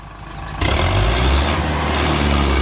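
A 62 HP ACE tractor hauling a heavy load of about 200 quintals roars loudly as its engine surges abruptly from a lower hum into a deep, harsh, sustained diesel rumble.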